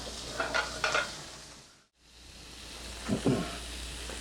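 Lightly salted shrimp cook in a pan with a steady near sizzle, broken by a few stirring bursts and a brief cut to silence in the middle before the frying resumes.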